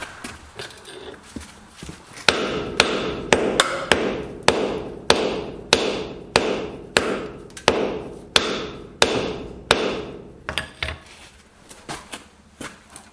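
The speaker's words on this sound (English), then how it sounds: "I tried hitting it with a hammer" Repeated heavy hammer blows on a concrete floor, a steady series of sharp thuds roughly every half second, close by, with a few lighter taps at the start and end.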